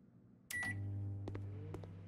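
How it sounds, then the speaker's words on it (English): Microwave oven in the game Denizen starting up after a click, a steady low hum running under a few faint beeps and clicks. "Put something in the microwave."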